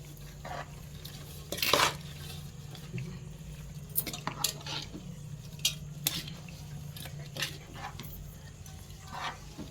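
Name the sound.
Avakaya mango pickle being mixed with oil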